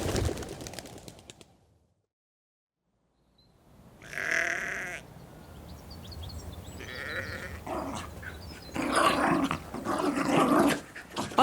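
Over-enthusiastic dogs at a hotel give a few loud, close barks in separate bursts, with a short silent gap near the start.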